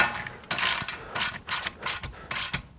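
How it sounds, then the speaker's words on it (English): Ratchet with a 19mm socket snugging a castellated nut onto a Toyota Land Cruiser tie rod end, giving five or six quick close clicking bursts in an uneven rhythm, with no talk. "we'll snug that one down with the 19mm socket"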